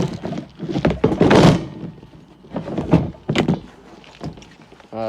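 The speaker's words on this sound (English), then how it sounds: "You have a cover. It just lifts off." Plastic cover lifted off the twin 20-pound propane tanks on a 2017 Dutchmen Aspen Trail 2710BH travel trailer, a series of hollow thunks and scraping knocks close by, with no talk over it.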